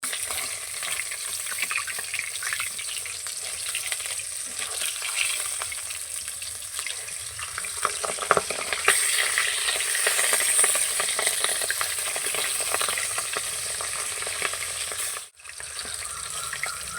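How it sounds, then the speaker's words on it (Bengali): Salted katla fish pieces fry in white oil one by one, giving a loud, continuous close sizzle and crackle that briefly drops out near the end. "মাছগুলো এক এক করে ভেজে নেব।"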